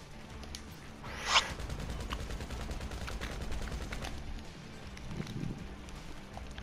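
Gunfire during a heist shootout in Grand Theft Auto V: one sharp loud shot, then steady rapid bursts of automatic fire that continue throughout at a moderate level.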